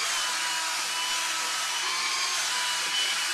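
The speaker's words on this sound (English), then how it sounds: "hoovering. Oh, this is actually cleaning the top up real good." Vacuum cleaner hoovering a top someone is wearing, a steady loud broadband whooshing drone that runs unbroken throughout with no voices over it.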